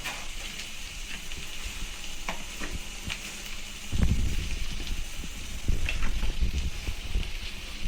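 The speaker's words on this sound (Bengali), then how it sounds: "মশলাটা তেলে ভেজে নিচ্ছি।" Ground spices with chili powder frying in hot oil for a lentil fritter dish, giving a steady close sizzle with occasional stirring scrapes, growing slightly louder toward the end, no voices.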